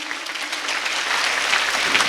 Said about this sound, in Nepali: त्यसैले जोरदार तालीले सम्मान गर्नुहोस् यस्ता महान ईश्वरको लागि।